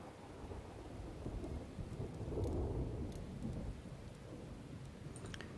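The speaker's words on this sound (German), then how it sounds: "Er sitzt fest im Sturm." Stormy weather in Total War: Warhammer II, with steady rain hissing and low thunder rumbling throughout, swelling slightly in the middle; a continuous, moderately quiet wash with no voices.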